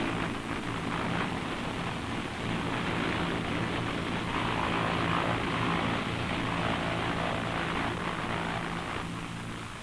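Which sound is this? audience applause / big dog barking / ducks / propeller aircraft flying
propeller aircraft flying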